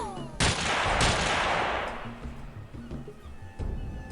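Gunfire in the video game XPiratez: a loud, sharp burst of shots opens, followed by sustained rapid automatic fire and later quieter scattered reports, with faint background tones.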